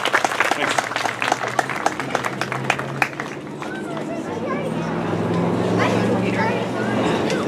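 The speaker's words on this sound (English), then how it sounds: "Another round of applause, please, for Peter Graham and Brittany." An audience at the Shelter Valley Festival's 2016 songwriters showcase claps in brisk, close applause for a few seconds, which then thins into a murmuring crowd with voices mixed in.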